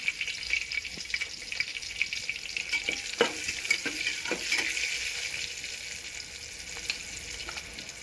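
Brinjal curry with turmeric and salt being stirred in a pan, giving a steady sizzle and frying hiss broken by scraping and knocking of the spoon against the pan.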